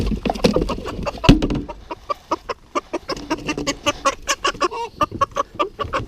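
Chickens cluck steadily inside a coop, a rapid run of short, close clucks and calls with a louder squawk early on, no voices over them.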